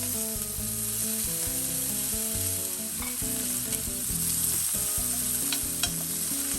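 Steak sizzles steadily in a pan with butter, garlic and sage, a continuous close frying hiss running the whole stretch with no voices, under a layer of tonal background music.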